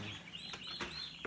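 Young turkey poults in a brooder with sand-topped bedding give thin, high peeping calls in short bursts, fairly faint and close, with a few brief scuffs and no talking.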